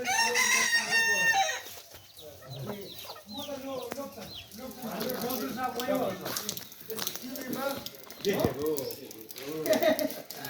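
Close and loud, a rooster crows at the start, then chickens cluck on and off while people talk nearby.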